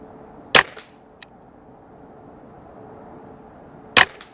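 Two sharp rifle shots from a Ruger 10/22 fitted with an 18-inch EABCO accuracy barrel, fired outdoors about three seconds apart, each a quiet crack with a short tail and a faint click between them.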